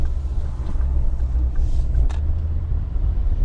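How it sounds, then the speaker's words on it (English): A Ford Focus RS Mk2 five-cylinder engine driving through a tunnel, a loud, steady low rumble with a deep drone heard from inside the car, with no talking. "So here we go, 5-cylinder goodness."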